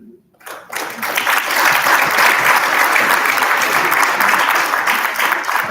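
An audience at a national adolescent health forum breaks into applause. It starts abruptly after a brief quiet moment and stays as sustained, dense clapping from many hands until the end.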